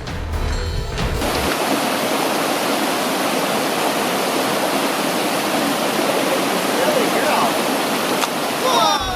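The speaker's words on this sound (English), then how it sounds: "There was a river behind the Ephraim Bales place." A river rushes behind an old homestead in the Smoky Mountains, a steady loud roar of flowing water that fills the whole stretch after a brief handling noise at the start.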